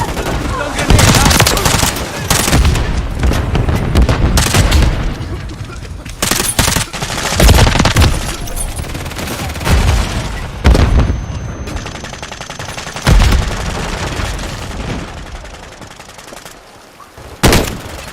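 Gunfire and explosions fill a video game firefight, with repeated loud broadband bursts and sharp blasts across the whole stretch, including grenade detonations amid continuous automatic fire.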